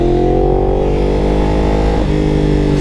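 Sport motorcycle engine, a custom 2015 Yamaha R1M with a stock clutch, revving steadily and loudly up close, its pitch climbing then dipping briefly near the end, with no talk over it.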